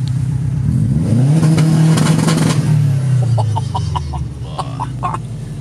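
A 500-horsepower Subaru Impreza WRX STi engine revving up hard and then settling into a throaty drone, close and loud, followed by a few short sharp pops as it falls off.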